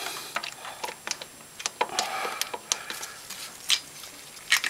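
A ratchet works the bottom bolt off the oil pump gear of a Honda TRX400ex quad, giving quick, close ticking clicks in uneven bursts against a faint background hiss, with no talking.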